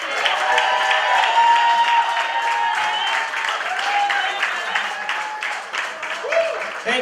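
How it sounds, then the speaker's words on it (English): Audience applause fills a hall at a Youth Huddle 10th anniversary celebration, a dense, steady wash of clapping with scattered cheers and voices mixed in, holding loud for the whole stretch. "Let's clap up."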